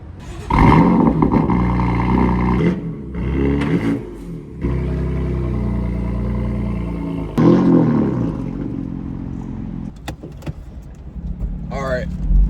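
A BMW M4 fitted with a single mid-pipe exhaust idles with a loud, deep rumble and rises in brief revs, close by, with a short gap and door or key noises partway through and a voice speaking briefly.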